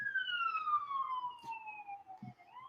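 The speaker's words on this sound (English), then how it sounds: "Live editions of this show can be crazy. We got sirens going on." A police-style siren wails outside during a live broadcast show, one long, steadily falling tone with clear harmonics that sweeps back upward at the end, moderately loud and a little distant, with faint low rumbles and thumps beneath it.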